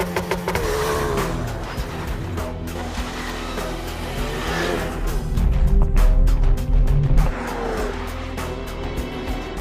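A Ford Focus RS pulls away under launch control, its engine held at a set rev point and then roaring up as the clutch bites, with loud, sustained acceleration, a brief tire chirp and gear-change surges.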